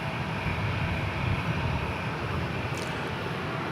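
A jet airliner bound for Honolulu, heard from the DFW Airport area as a steady, moderately distant engine roar that holds evenly throughout.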